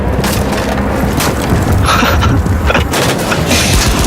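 Sharp booming gunshots from a video game headshot ring out among loud, noisy game sounds, with several distinct impact bursts across the passage.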